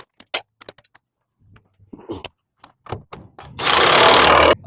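Bolts on Ford F100 lowering shackles and DJM drop beams are snugged up underneath the truck: scattered metallic clicks and clinks from a wrench and socket, then a loud, sustained burst of a power tool running for about a second.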